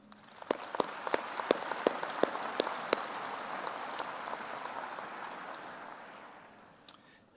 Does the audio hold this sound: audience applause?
yes